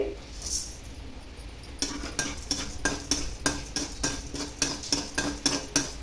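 Urad dal roasts slowly in a pan over a low flame, with a spoon scraping and clinking against the metal in a quick repeated stirring rhythm, close and moderately loud.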